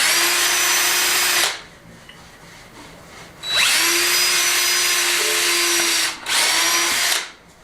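A power drill bores pilot holes into wood for screws during restoration of wooden doors, three close whining bursts with short quiet gaps between them, the first two longer and the last brief.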